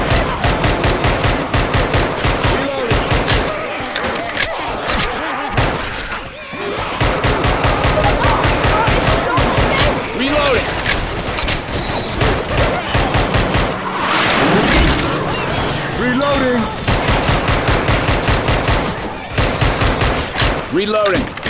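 Gunfire in Left 4 Dead 2, with rapid automatic bursts rattling almost continuously and loud, broken by short pauses while voices shout over the shooting.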